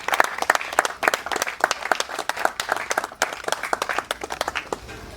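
Congregation applauding at a funeral service, dense steady clapping from many hands filling the room for several seconds without pause.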